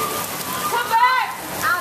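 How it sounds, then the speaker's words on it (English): Heavy rain pours down outdoors, a dense hiss of drops hitting surfaces, with excited voices talking and calling over it throughout. "Wow, it is raining hard."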